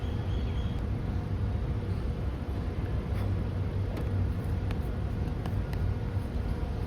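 Car engine left running at idle, a steady low rumble with constant broadband noise, close and unchanging throughout.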